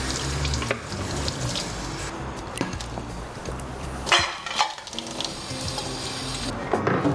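Water runs from a kitchen tap into a sink during washing up, a steady splashing stream broken by clatters and brief changes in flow, with no voices.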